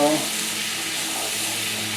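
A fluke dish stirred in a pan with broth, a short scrape at the start followed by a soft, continuous simmering sizzle close by.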